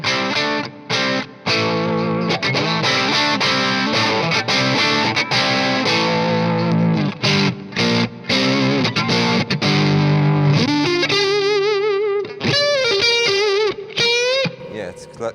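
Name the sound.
electric guitar through amp with gain and boost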